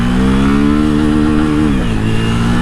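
Honda Grom motorcycle revving up hard with a loud, close engine whine whose pitch climbs steadily, dips briefly as it shifts, then rises again.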